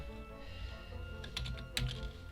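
Keys clatter on a computer keyboard as a project name is typed into Visual Studio for a C++ console program, with a few close, crisp keystrokes in a loose cluster over a low steady hum.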